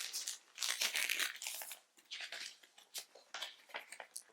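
Packaging of a Machine Robo Shuttle Robo toy being torn open and crinkled close up, a few rough ripping bursts followed by shorter crackling rustles, quiet and with no voices.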